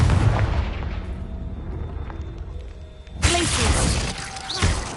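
A Confringo blasting spell explodes in the Hogwarts Legacy video game: a sudden loud, crackling burst erupts partway through, rising over a murky, rumbling battle background with faint voice-like sounds.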